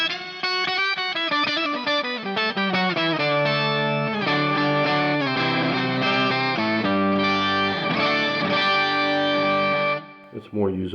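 An electric guitar runs through a Headrush octave-up pitch effect with the second octave at 50%, playing chords and single notes with a bright, shimmering doubled tone, then dropping off before a brief final strum.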